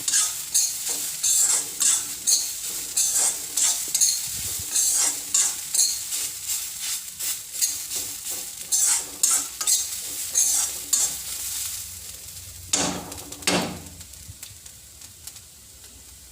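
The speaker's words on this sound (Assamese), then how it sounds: "এইখিনি ভালকৈ ভাজি হৈছেহি" Food stir-fries in a pan with a steady sizzle, broken by rhythmic scraping strokes of a spatula that slow toward the end. Close and clear, with no talk.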